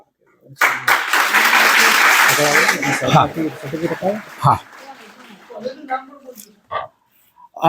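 A crowd at a college valedictory function claps for a semifinal round winner, a dense burst of applause lasting about two and a half seconds before it fades and voices take over, talking near the microphone.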